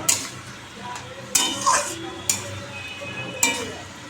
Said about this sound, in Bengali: আমি এর মধ্যে একটু জিরের গুঁড়ো ধনের গুঁড়ো হলুদ নুন সব দিয়ে দিয়েছি দিয়ে এখন কষাচ্ছি পটলগুলো